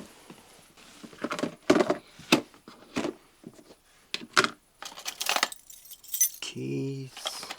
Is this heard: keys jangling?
yes